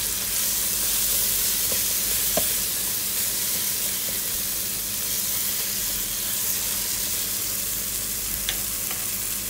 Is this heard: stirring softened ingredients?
yes